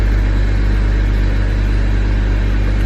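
A BMW with an N54 engine idles steadily at close range, a low, even rumble with no revving, holding constant until it is shut off.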